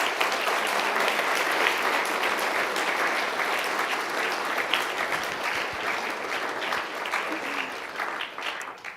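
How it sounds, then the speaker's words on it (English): A round of applause from the audience at a NATO youth summit in Washington, D.C., steady moderate clapping filling the hall, slowly tapering toward the end. "We should give them a round of applause"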